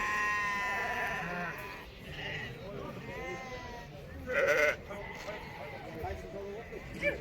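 Ewes bleat repeatedly at a busy livestock market, several overlapping calls near and farther off, with people talking in the background.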